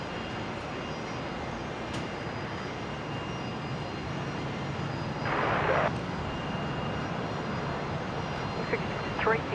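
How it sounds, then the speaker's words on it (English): A Qantas Airbus A330 departs Brisbane for Singapore with a steady, distant engine roar that holds at an even level throughout, and a voice speaks briefly partway through. "There goes the Qantas 330."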